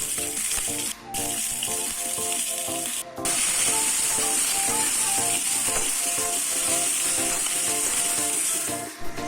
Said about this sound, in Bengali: আলুগুলো হালকা করে ভেজে নিয়েছি যাতে অল্প অল্প সেদ্ধ হয়ে যায়।